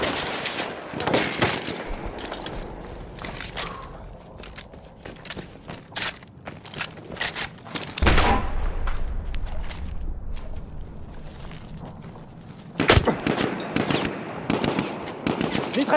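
Enemy machine gun in a Battlefield 1 match rattles off in repeated bursts of rapid fire, with heavy gunfire returning loud near the end amid battlefield clatter and movement.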